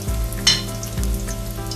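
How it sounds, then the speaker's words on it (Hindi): Potato tikki patties shallow frying in oil make a close, continuous sizzle, with low humming tones underneath and a brief louder crackle early on. "तेल हमने रखा है, हमें टिक्की फ्राई कर रहे हैं"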